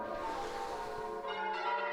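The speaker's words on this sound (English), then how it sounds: "The church bells." Church bells ring steadily with bright, sustained overlapping tones, a dense wash of ringing that fills the space with no voices.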